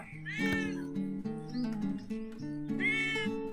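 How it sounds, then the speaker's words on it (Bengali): A cat meows several times up close, drawn-out plaintive cries with two especially prominent calls at the start and end, heard alone without speech. "ওই যে একটা বিড়ালও চলে এসছে। এই হুশ হুশ, ম্যাও ম্যাও।"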